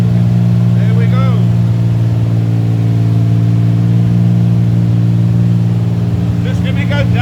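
A 1938 SS Jaguar 3½ litre vintage car engine runs close and loud in a restoration workshop, holding a steady throbbing idle with brief rev surges near the start and end, while a person speaks over it.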